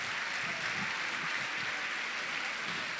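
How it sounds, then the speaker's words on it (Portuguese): Steady, dense applause from a church congregation at a worship service, a continuous wash of clapping filling the room for the whole stretch without breaks. "Pode aplaudir com mais força"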